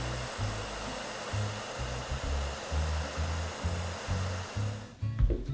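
A hair dryer blows steadily and close as it heats the corner of a plastic eyeglasses frame, a loud continuous whooshing drone that wavers slightly before cutting off near the end.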